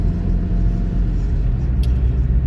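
A car on the road, its engine giving a steady low rumble heard from inside, loud and continuous with no talk over it.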